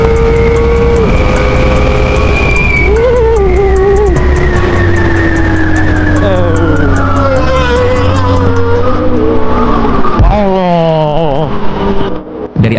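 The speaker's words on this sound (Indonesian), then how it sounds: "salah satu rekannya melaju dengan kecepatan tinggi dan kehilangan kendali saat melintasi jembatan" A motorcycle ridden at high speed across a bridge loses control and crashes: a loud, sustained engine whine with wavering, shifting pitch fills the scene, then breaks into a chaotic burst of scraping noise near the end.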